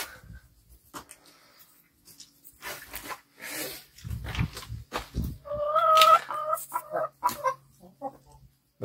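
Hens cluck in a farmyard chicken coop that also keeps geese and blue-egg-laying hens, a scattered run of short, moderately close calls with a few louder squawks and quiet gaps between them.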